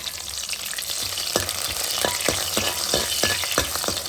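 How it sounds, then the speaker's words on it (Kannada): Mustard seeds with a pinch of asafoetida spluttering in hot oil for a sambar tempering, a dense sizzle punctuated by repeated sharp crackling pops, loud and close with no talking. "ಇವಾಗ ಒಗ್ಗರಣೆ ಸಿಡಿಯೋದಕ್ಕೆ ಸ್ಟಾರ್ಟ್ ಆದಮೇಲೆ"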